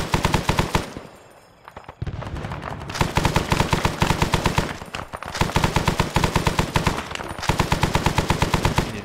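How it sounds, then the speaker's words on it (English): Bursts of M60 machine gun fire in Arma 3's Vietnam setting, loud and close, rapid sustained rattling in several long strings separated by brief pauses, no talk. "Firing my M60 so that"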